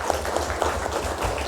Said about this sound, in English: I want all of us to give a huge round of applause to all the women who participated today